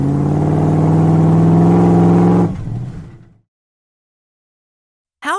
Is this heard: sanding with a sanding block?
no